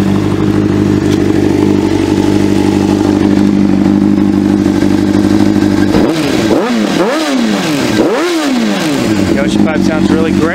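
A 2005 Honda CBR600RR sport bike engine runs at a steady, loud idle, then blips through several quick rising and falling revs in its second half, close by and dominating the sound.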